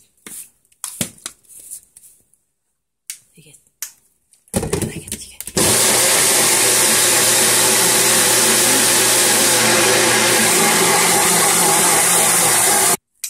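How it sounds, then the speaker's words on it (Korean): A small blender whirs loudly and steadily for several seconds after a few brief clicks and handling noises, its motor a dense continuous grinding roar, blending a matcha drink with water. "미니믹서기는 보통 30초만 하십시오"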